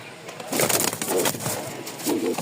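A pair of Lotan pigeons gives soft, low, repeated coos close by, a few rolling calls in quick succession with faint background noise.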